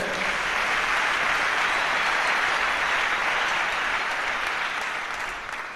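A church congregation applauds loudly and continuously, dense clapping from many hands filling the room and only starting to thin in the final moment.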